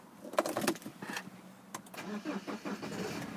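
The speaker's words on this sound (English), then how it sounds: "if we just get the car started up" A silver BMW 318d SE manual diesel cranks and fires into a low idle after a few clicks and rattles from inside the car, fairly quiet and with no speech.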